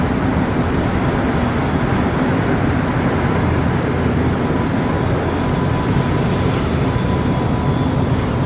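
High-pitched electrical buzzing comes from beneath a Montréal Métro MR73 train on the Green Line. Thin, intermittent tones pulse over a constant loud rumble of the underground station.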